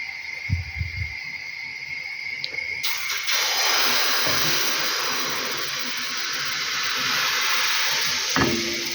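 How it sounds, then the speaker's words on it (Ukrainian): A steady, loud sizzle of pancake batter cooking in a hot, lightly greased pan fills most of the clip after a few soft knocks, continuing evenly with no speech. "Гарненько, як бачите, підсмажується, гарненько перевертається."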